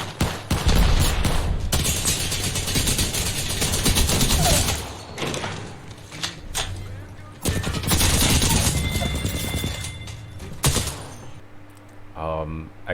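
Rapid automatic fire from the Alternator weapon in the video game Apex Legends, clattering in loud bursts separated by quieter gaps, with someone talking over much of it.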